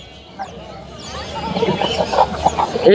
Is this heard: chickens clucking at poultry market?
yes